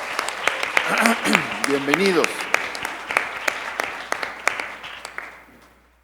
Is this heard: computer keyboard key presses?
no